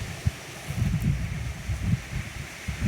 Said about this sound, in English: it's a windy fall day today